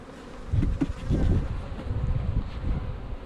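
Honeybees swarm around a hive with brood, their dense buzzing close and continuous, swelling and easing over a light hum of wind.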